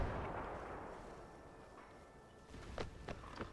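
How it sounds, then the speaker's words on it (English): Incoming Belgian artillery fire in the strategy game Between Empires: a broad rumbling boom that fades slowly, followed by a few sharper distant impacts near the end. "I believe that's incoming Belgian shots."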